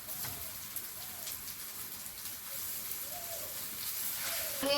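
Potatoes with garlic paste fry in a pan, giving a soft, steady sizzling hiss like light rain that stays faint and even throughout.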